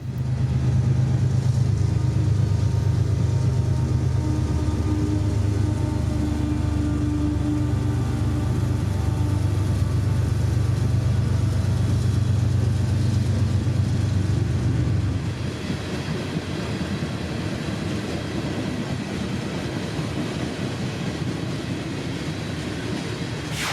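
A loaded coal train rolls through Folkston, Georgia with a loud, steady rumble and a low locomotive drone that fades after about fifteen seconds, leaving the continuous rolling clatter of wagons passing close by.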